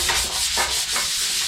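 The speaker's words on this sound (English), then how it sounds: "a good old hand sander will just finish the job off nicely" A hand sander rubs back and forth across a Harley-Davidson Sportster motorcycle fuel tank in three close, rhythmic, rasping strokes.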